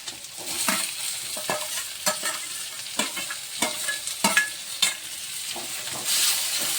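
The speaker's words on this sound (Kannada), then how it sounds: "ಉಳ್ಳಾಗಡ್ಡೆ ಹಾಕಿ ಉಳ್ಳಾಗಡ್ಡೆ ಸ್ವಲ್ಪ ಎಣ್ಣೆ ಕಾಯಿ ಅಲ್ರಿ. ಹಾಗೆ ಟೊಮೆಟೊ ಹಾಕಂಬ್ರಿ." Onion and tomato frying in oil in a pan, stirred with repeated sharp scrapes and taps of a spatula over a steady sizzle, close and without talk.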